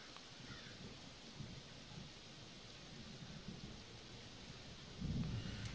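Rain and thunder in the survival shooter game Zero Sievert: a steady hiss of falling rain with soft low rumbles of thunder, and a louder thunder roll near the end, no talk.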